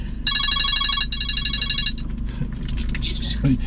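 A phone rings during a prank call, a repeating electronic trill in two bursts that stops partway through, heard over a low engine-like hum and background noise.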